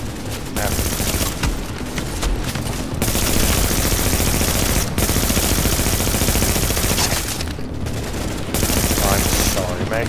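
Rapid video game gunfire rattles in dense, sustained bursts from an automatic weapon, loud and close, broken by a few brief gaps.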